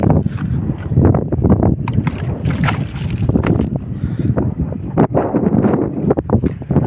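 Strong gusts sweep across an open cumin field, buffeting the microphone with deep, uneven rumbling roars that rise and fall over several seconds.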